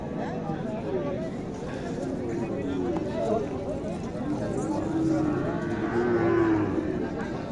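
Cattle low and moo repeatedly at a busy livestock market where a Sahiwal bull stands among animals for sale, several calls rising over a steady crowd murmur with people talking nearby.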